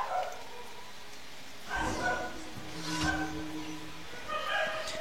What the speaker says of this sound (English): Dog whimpering, barking.